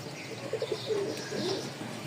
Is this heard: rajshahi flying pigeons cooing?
yes